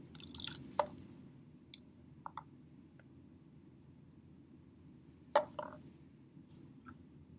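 Liquid drops falling from the outlet of a Ni-NTA column as the resin beads pack down, two sharp, distinct drips about five seconds apart with a few faint ticks between, close and quiet over a steady low hum.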